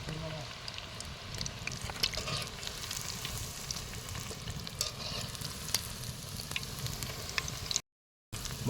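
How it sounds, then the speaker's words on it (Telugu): Chicken balls fry in hot oil with a continuous bubbling, crackling sizzle and scattered sharp pops, steady and close, briefly cutting out near the end. "చికెన్ బాల్స్ ఆయిల్ వేడైన తర్వాత వేసుకోవాలి."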